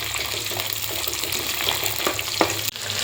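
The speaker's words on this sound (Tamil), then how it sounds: "நல்லா வதக்கி விடலாங்க" Shallots, garlic and curry leaves sauté in hot oil with mustard and fenugreek seeds for a dried-fish curry, a continuous close sizzle with scraping stirs and a few sharper clicks of the spoon.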